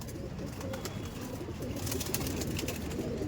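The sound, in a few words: pigeons cooing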